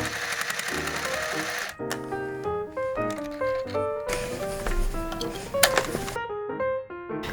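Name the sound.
sewing machine sewing along a seam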